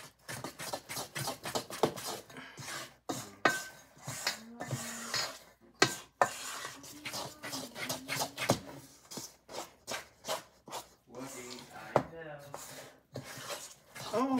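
Hand stirring of a sweet mixture in a bowl, repeated scraping and clacking strokes in an uneven rhythm, close and fairly loud, with a person talking over it.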